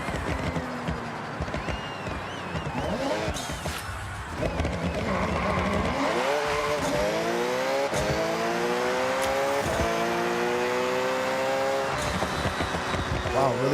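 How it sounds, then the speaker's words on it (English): A Porsche in Forza Horizon revs and accelerates hard through rising gear shifts, with brief tire squeal at launch and engine roar building steadily, while a voice talks over the game audio. "So as soon as I hit this gas, I expect this thing to just spin out like crazy."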